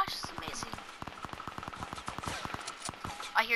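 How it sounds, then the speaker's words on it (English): Rapid in-game gunfire from the Fortnite battle royale shooter, a long run of sharp cracks fired in bursts at close range, continuing almost without pause. "I hear gunshots, and I think they're at me"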